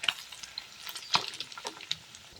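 Catfish pieces, unbattered, fry crisp in hot oil with a soft, quiet sizzle, scattered light crackles and a few sharper pops, like bits being stirred in the pan.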